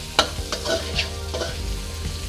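Coriander root, garlic and pepper stir-fry in a pan, a steady sizzle broken by a few scraping stirs from a spatula, close and clear with no talking.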